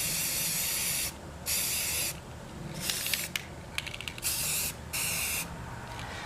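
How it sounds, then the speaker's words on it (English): Aerosol can spraying orange paint onto mason jar rings, a series of loud hissing bursts of about half a second to a second each with short pauses between, close up, with no talk. "I'm gonna finish spray painting all of these"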